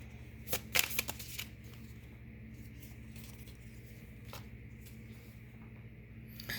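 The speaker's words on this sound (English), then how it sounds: "let's get a Rumi card" Rumi oracle cards are shuffled in a short, soft flurry of riffling and flicking near the start, then quiet handling over a low background hum.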